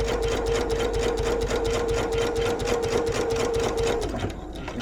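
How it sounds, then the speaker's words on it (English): A sewing machine stitches fabric pieces together to make a reversible bag, running in a steady, rapid mechanical rhythm at close range for about four seconds before it stops. No one speaks. "So just going to sew this one together, and then I will sew the remaining 3."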